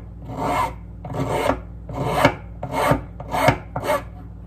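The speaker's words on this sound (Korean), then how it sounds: "이제 이 주둥이 부분을 파일로" A hand file rasps over the snout of a maple wood fish carving, six steady scraping strokes close up, each a rough swelling hiss with short gaps between.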